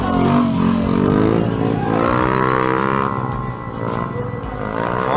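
A Honda Vario scooter engine is revved hard up close, its loud pitch climbing and falling in repeated sweeps before easing and rising again.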